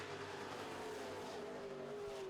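Super trucks roar away at the green flag of a race heat, a faint but steady blend of several revving engines with a drawn-out whining pitch that slowly falls, heard at a distance.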